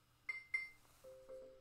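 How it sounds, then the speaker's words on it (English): A transitional hand-washing timer sounds two short electronic dings in quick succession, followed by a softer lower tone, faint and close in a quiet room. "You heard a ding at that point in time"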